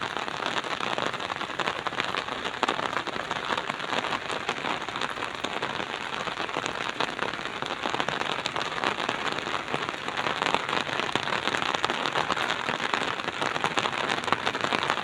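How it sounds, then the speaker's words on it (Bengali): A swollen river in flood rushes past a bridge, its fast, heavy current making a steady, dense roar that holds at an even loudness throughout with no break. "প্রচণ্ড জল, প্রচুর গতি, জলের স্রোত"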